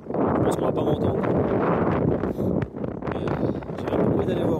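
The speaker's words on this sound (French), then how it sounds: "il y a énormément de vent" Strong wind on a mountain hike near Mont-Dore buffets the microphone in loud, rumbling gusts that rise and fall, with faint rustling in the background.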